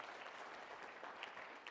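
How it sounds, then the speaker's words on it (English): A small audience applauding its hosts at a leadership talk, brisk continuous clapping at a steady level throughout, fairly close but not loud. "A little round of applause."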